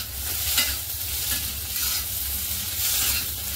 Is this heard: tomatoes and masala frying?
yes